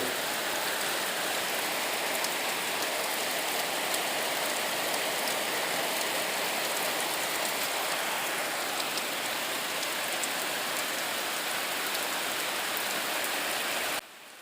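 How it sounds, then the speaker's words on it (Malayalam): Heavy rain pours steadily on a hillside plot in Kerala, a dense, loud, unbroken hiss of drops hitting the ground and foliage nearby that runs for the whole stretch with no voices. "അവിടെ എത്തിയപ്പോഴേക്കും ഭയങ്കര മഴയായിരുന്നു കേട്ടോ"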